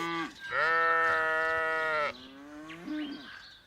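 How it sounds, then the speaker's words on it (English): Sheep bleats, one long wavering call then a shorter rising one, loud and close with no talking. "That's your woolliest sheep?"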